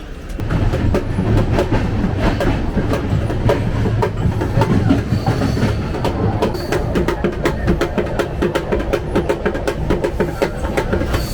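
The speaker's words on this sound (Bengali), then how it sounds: "ট্রেন এখন রাউরকেল্লায় ঢুকছে" The Ispat Express passenger train rolls into Rourkela with a loud, steady rumble and rhythmic clatter of wheels over rail joints, heard close from on board.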